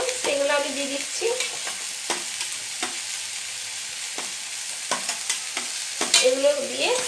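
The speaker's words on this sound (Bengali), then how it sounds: "ফুলকপি, আলু যেগুলো ভেজে রেখেছিলাম সেগুলো আমি দিয়ে দিচ্ছি।" Fried cauliflower and potato pieces drop into a hot frying pan, raising a steady loud sizzle of oil punctuated by soft thumps and stirring scrapes.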